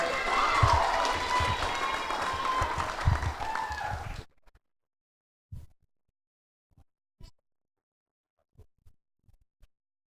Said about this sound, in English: Remember to big claps